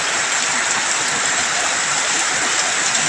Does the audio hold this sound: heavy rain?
yes